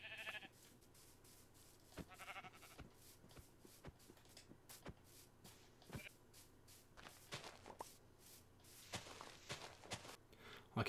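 Sheep bleat in the Minecraft video game among steady footsteps and sharp hit clicks, with the bleats coming and going over a soft, constant game background.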